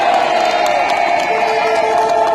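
A crowd at the "Marchons Enfants" rally in Rennes cheers and applauds after a speech by Guillaume Bernard, a loud, dense, steady roar of voices and clapping sustained throughout.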